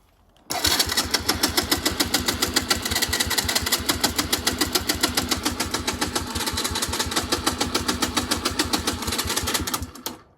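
A Mustang's engine cranks with a fast, even, rhythmic chug that runs loud and steady for about nine seconds before stopping abruptly.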